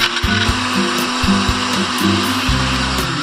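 A blender grinds ice for an Oreo milkshake, running loud and steady for a few seconds with a low rumbling motor drone and shifting pitch as the ice breaks down.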